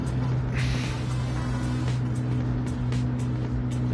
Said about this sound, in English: Sounds like a car conked out at the line.